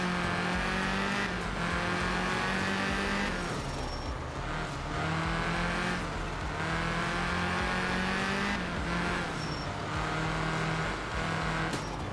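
A Group A turbo rally car with anti-lag revs and accelerates in a racing video game, engine note climbing through gears with brief lifts and turbo flutter, loud and continuous with no speech.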